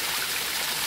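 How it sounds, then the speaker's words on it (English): Water flowing steadily from a small pump up through a filter, a continuous close trickling wash with no gaps and no voices. "Water comes up through this little pump here"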